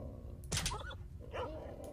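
Dogs in the video game STALKER: Shadow of Chernobyl give a couple of short, mid-distance barks and yips over a steady low game ambience.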